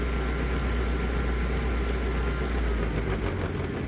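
A 212cc Predator small engine fitted with a home-built fuel injection system runs loud and steady up close, its droning tone shifting slightly near the end as the injector is switched off.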